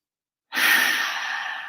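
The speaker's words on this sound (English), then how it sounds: "Let's take 3 deep breaths together to signify the end of practice" After a moment of silence, one deep, breathy exhale through the mouth begins abruptly and trails off slowly, close and fairly loud, during a meditation practice.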